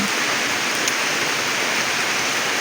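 Continuous heavy rain falls without letup in Mawab, Davao de Oro, a dense, even wash of noise with no voices.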